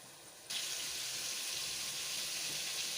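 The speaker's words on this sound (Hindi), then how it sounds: "अब ये गोश्त उबाल के रखा ये ऐड कर रही हूँ" Boiled mutton is tipped into fried masala in a karahi pan, starting a sudden loud, steady sizzle after a brief quiet moment. The hiss holds evenly to the end.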